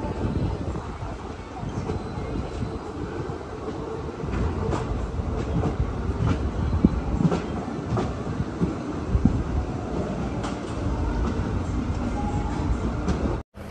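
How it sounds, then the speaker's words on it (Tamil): Poorna Express sleeper-class train pulling into Madgaon railway station, a steady loud rolling rumble with irregular wheel clacks and rattles throughout, heard from on board, ending in a sudden cut. "நம்ம பூர்ணா எக்ஸ்பிரஸ் பார்த்தீங்கன்னா மூணு ஸ்டேட்டை கடந்து இப்போ வந்து மட்கான் அப்படிங்கிற ஸ்டேஷனை வந்து ரீச் ஆகிருக்கேங்க"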